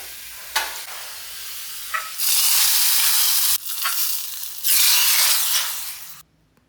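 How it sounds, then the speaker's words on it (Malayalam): Small onions sautéing in coconut oil, with loud, close sizzling that swells in bursts as the pan is stirred, then drops back to a lower hiss before cutting off. "ഇനി വെളിച്ചെണ്ണയിൽ ചെറിയ ഉള്ളി നമുക്ക് വഴറ്റിയിടാണ് വേണ്ടത്."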